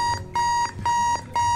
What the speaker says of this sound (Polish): Zamknij mordę, budzik.